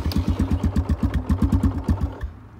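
A 2017 Kawasaki KLX 140G dirt bike fires up on electric start and settles into a close, steady idle with a rapid, even putter that cuts off near the end, leaving quiet.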